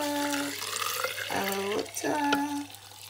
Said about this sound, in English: We go ahead to add our water.